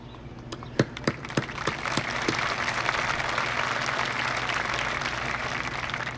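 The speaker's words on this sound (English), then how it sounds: "And you can be seated after we clap for you, yes." An audience at a school eighth grade promotion ceremony applauds for students; a few sharp nearby claps start it, then a steady, full round of crowd clapping continues to the end.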